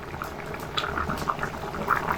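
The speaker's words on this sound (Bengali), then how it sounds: "এইভাবে এটাকে 7 থেকে 8 মিনিট সময় ধরে ফুটিয়ে নেব" Katla fish and eggplant curry bubbles in a pan over medium heat, with soft, irregular pops and burbles close by.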